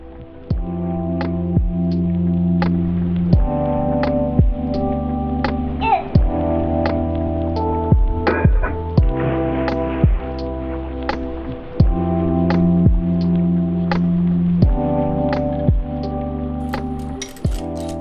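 A sewing machine topstitches a crossbody bag at a long stitch length, giving a low, steady motor hum marked by regular metallic clicks about once a second, each stitch distinct and close.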